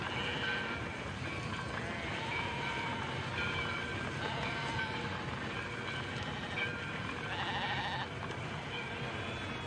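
Many sheep bleat amid the rumble of a moving train, herded toward a slaughterhouse; a dense, continuous chorus of overlapping bleats over steady rail noise, with no pauses.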